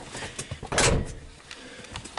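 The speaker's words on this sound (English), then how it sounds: "I'm gonna shut the door so the dome light's not robbing power." A single solid thump of a 1956 Buick car door shutting, fairly close, with quiet rustling and faint movement around it.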